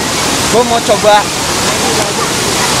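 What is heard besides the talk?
waterfall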